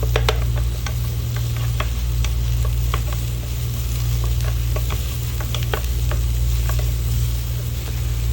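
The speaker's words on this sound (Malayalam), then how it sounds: "അരിഞ്ഞു വെച്ചിരിക്കുന്ന സവാള ഇതിലേക്ക് ഇട്ട് കൊടുക്കാം എന്നിട്ട് നന്നായി ഒന്ന് മിക്സ് ചെയ്യാം" Chopped onion frying in melted butter in a pan, a steady close sizzle with scattered crackling pops and occasional stirring scrapes, continuous with no talk.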